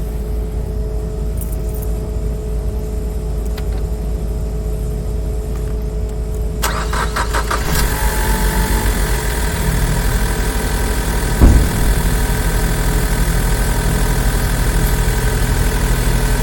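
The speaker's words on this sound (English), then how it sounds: "I'm going to start the vehicle up" A vehicle engine cranks and starts, then runs at a steady, loud idle with a continuous low hum and one brief knock midway, recorded nearby without any speech.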